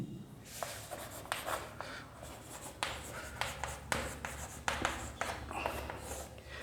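Chalk or marker writing a definition on a classroom board during a chemistry lecture, a close series of scratchy strokes and taps in uneven bursts.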